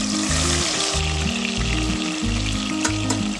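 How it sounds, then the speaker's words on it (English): Plantain slices frying in hot palm oil in a dry pot, a close, steady crackling sizzle with bubbling that carries on without pause. "Put some palm oil in a dry pot and allow this to be hot. Then add the plantains to it."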